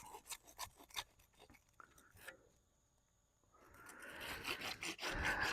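A fine-toothed handsaw rasps through PVC pipe in a pond pump repair, with a run of quick, close strokes at first, a brief pause, then a louder, denser burst of sawing toward the end.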